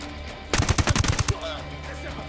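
Rapid burst of automatic gunfire in Ghost Recon Wildlands, about ten loud, evenly spaced shots fired at close range against an armored enemy, ending abruptly with no talk over it.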